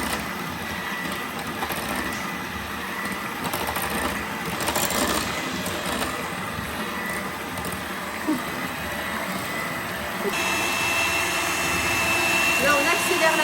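An electric mixer whips flourless flan batter with a steady, continuous motor whir that climbs in pitch as the speed is raised near the end, close and loud throughout.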